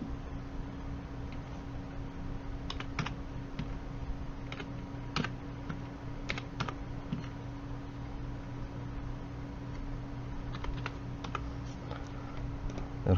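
A computer keyboard clatters as someone types names and data into an Excel spreadsheet, with irregular bursts of crisp, close key clicks and short pauses over a steady low background hum.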